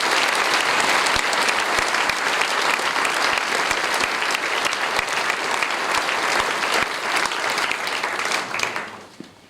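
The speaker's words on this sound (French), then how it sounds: "Merci et je vous demande de les applaudir." Dense, sustained applause from a large audience at a Nouveau Front Populaire political rally, loud and steady throughout before quickly fading out at the end.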